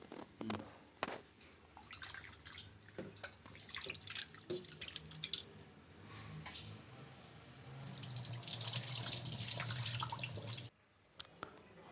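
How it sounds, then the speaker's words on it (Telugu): Running tap water splashes steadily as prawns rubbed with turmeric are rinsed clean in a kitchen sink, with handling clatter and drips, swelling into a fuller, louder gush near the end before cutting off. "ముందుగా రొయ్యల్ని పసుపు వేసి శుభ్రంగా కడుక్కుందాము."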